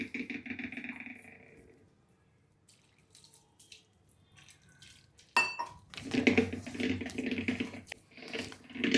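Wheat flour dosa batter is mixed in a bowl, with wet sloshing and scraping strokes that pause briefly, then return louder and more vigorous.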